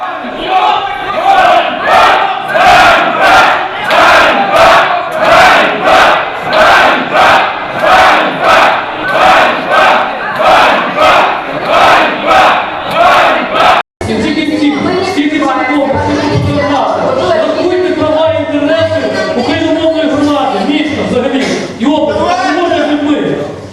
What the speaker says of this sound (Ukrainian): У сесійній залі піднявся гомін.